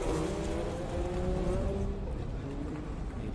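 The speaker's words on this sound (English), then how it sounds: "88 car there just gets a little bit sideways." IMSA WeatherTech race car engine roaring on track as the car gets slightly sideways in a tight sector, a steady loud drone with shifting engine tones and commentary audible underneath.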